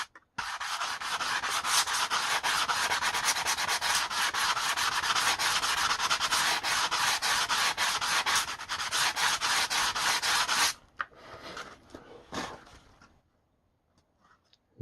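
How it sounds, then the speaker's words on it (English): Steady, continuous scratchy rubbing of 220-grit sandpaper on a sponge block against a damaged RC airplane wing, close and loud for about ten seconds, then a few softer strokes before stopping. "I just got a little sanding sponge here and some 220 grit sandpaper"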